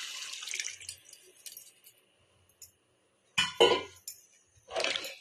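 Four tumblers of water poured into rice for a vegetable biryani, splashing in short bursts with quiet clinks of a vessel between, loud and close, with no talking.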